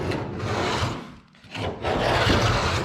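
A knife scraping thick paint off a surface, a close, continuous rough rasping in two long strokes with a brief pause between, loud and without talk.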